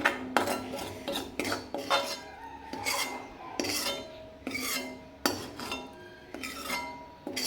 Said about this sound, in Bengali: এবার আমি সব ডালগুলো একটা পাত্রের মধ্যে তুলে নিচ্ছি